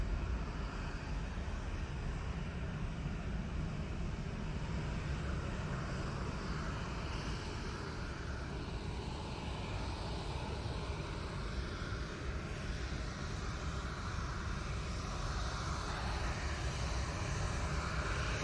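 A Ryanair airliner at Manchester Airport produces a long, steady engine rumble and broadband roar that holds at an even level throughout, with light wind noise on the microphone and no talking.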